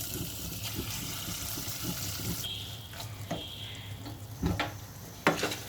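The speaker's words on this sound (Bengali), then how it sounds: "এবার আমি রান্না করা ভুঁড়িটা এর মধ্যে দিয়ে দিব" Cooked beef tripe tipped into a pan of spices, then a soft sizzle, wet stirring, and a few clinks of a utensil against the pan up close.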